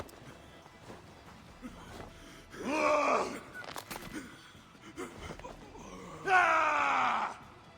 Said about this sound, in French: Comment il lui crie dessus en mode ah